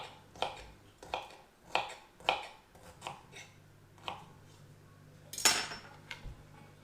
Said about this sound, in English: then I'm going to chop up my carrots